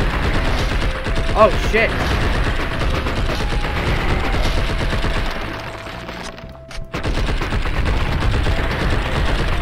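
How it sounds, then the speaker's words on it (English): In Blood and Bacon, guns loaded with explosive ammo fire in rapid, loud bursts almost without pause, briefly dropping out before resuming, with a short spoken exclamation over the shooting. "I put explosive ammo in all the weapons today."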